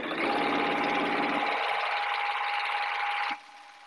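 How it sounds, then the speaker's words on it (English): A sewing machine stitches a quilt seam with a steady, fast mechanical whir and hum, close and fairly faint, stopping abruptly near the end. "align the right edge of this presser foot and start sewing away"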